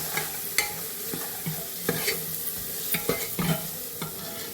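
Ground coriander, cumin and garam masala sauté in oil in a pan for a mutton and potato curry, with a steady sizzle broken by regular clacks of a spoon stirring, close and clear, without any talk.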